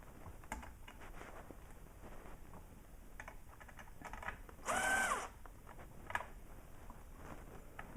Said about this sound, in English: And then I'll finish screwing them in